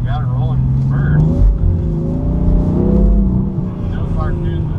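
A BMW M4 pulls hard away from a race start, its engine a loud, close, rising roar, with a commentator talking over the sound throughout.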